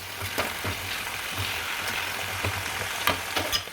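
Curry frying in a pan with mint just added, a steady close sizzle broken by scraping stirs at irregular intervals, with a low hum beneath throughout.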